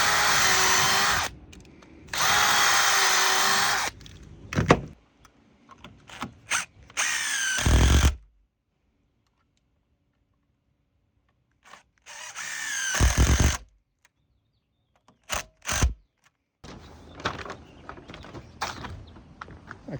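Power drill driving long 3.5-inch screws into composite decking for a built-in bench corner, several loud bursts of whirring with pauses between them and quiet gaps, no talk.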